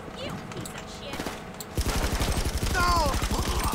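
Rapid automatic gunfire in GTA 5 Online, a dense burst of closely spaced shots rattling loudly after a quieter stretch of mixed game noise, with a voice briefly heard over the shooting.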